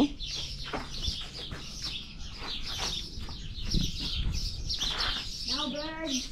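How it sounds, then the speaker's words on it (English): Birds chirp and cluck in a busy chorus, with some fowl-like clucks and a rising tweeting call near the end; background chatter sits underneath. "Now birds."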